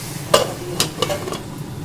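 Red amaranth leaves fry in a pan while being stirred, with about four quick, close scraping strokes of the spatula over a light, steady sizzle and no talking.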